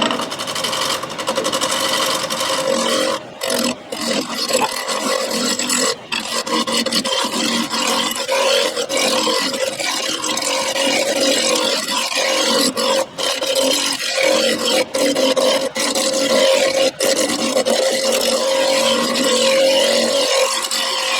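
A wood lathe turns a 4x4 into a mallet while a tool cuts, producing a continuous close roaring scrape with brief catches and dropouts as the blade passes over a knot.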